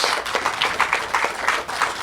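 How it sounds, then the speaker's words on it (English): An audience applauds Medal of Honor recipients at an awards ceremony, a short dense burst of clapping heard up close and without any voices. "I ask that you give all 8 of them another round of"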